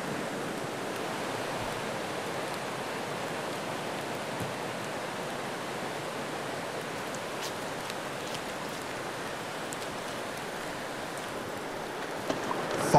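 Steady drizzle falling near a river mouth in a Canadian forest, a continuous even hiss of light rain with no talking or other clear sounds.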